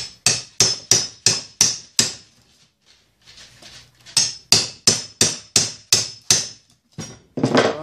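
A hammer strikes a cold chisel against an electric motor housing in sharp, ringing metallic blows, a run of six, a brief pause with faint scraping, then another run of about seven evenly paced strikes, close and loud.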